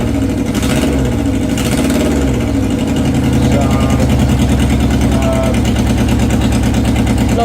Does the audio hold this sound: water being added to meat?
no